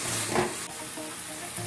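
A filling of chopped cashews, raisins and dates is stirred in a hot pan, giving a short, steady sizzle with a soft scrape of the spoon.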